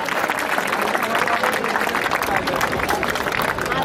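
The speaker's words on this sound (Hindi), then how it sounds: "जोरदार तालियों के साथ, तालियां रुकनी नहीं चाहिए।" Loud, sustained applause from a crowd at a college annual function prize announcement, a dense continuous wall of clapping with background voices mixed in throughout.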